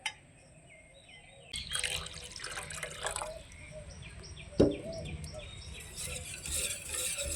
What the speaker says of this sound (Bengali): ফেটানোর পরে ঘন হয়েছে, তাই আধা বাটি আবারও জল দিয়ে দিই।